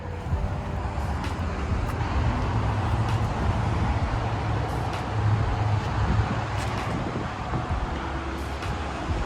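Interior road noise from a BMW wagon cruising, a steady low rumble of tyres and wind with faint engine drone, constant and moderately quiet, with brief talk over it.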